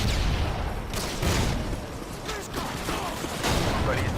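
Rapid bursts of gunfire and sharp mechanical clatter from the video game Modern Warfare 2 come in quick, loud volleys with brief gaps between them; a voice is also detected.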